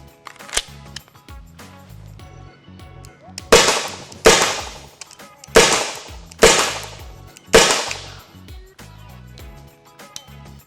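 A Byrna launcher fires about five sharp, snappy shots at a target in an irregular run of cracks, each loud and near with a short decay, and a few fainter clicks come before and after.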